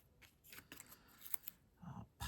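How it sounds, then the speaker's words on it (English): Scissors snip through strips of foam tape in a small crafting session, giving a few quick close cuts with light handling rustles between them and a louder final snip. "I just got a piece of foam tape here. We're just gonna cut some strips off."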